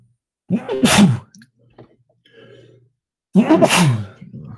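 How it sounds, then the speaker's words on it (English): Two loud, close sneezes a few seconds apart, with a quiet breath and faint rustling in between. "oh, I gotta sneeze."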